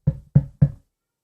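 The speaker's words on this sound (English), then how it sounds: "you suddenly hear a knock on your door" Three firm knocks on a hotel room door, evenly spaced and close, dull and wooden, then silence.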